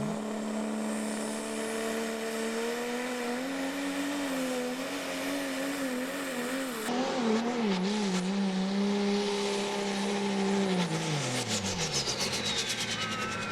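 A pulling truck at a truck and tractor pull runs down the track, its engine a steady loud drone that rises in pitch, then wavers and sags as power fades near the end, heard alone without talk.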